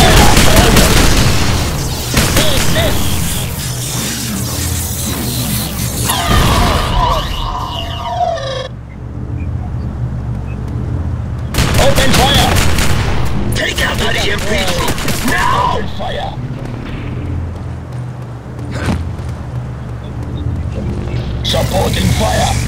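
Gunfire from the Rogue Trooper video game: bursts of rapid automatic fire and heavy booms come in waves over the battle din, with loud stretches broken by a brief lull, and voices shout over it.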